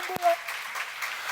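A few rhythmic claps ring out in a church during a sermon on the Psalms, brief and moderately loud, with a voice speaking over them.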